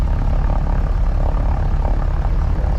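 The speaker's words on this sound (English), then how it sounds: "For us, it's going to be like 10 minutes in this airplane." A Piper Aztec twin-engine propeller airplane drones steadily in flight, heard from inside the cabin. The engine roar is loud and constant throughout, with no talking over it.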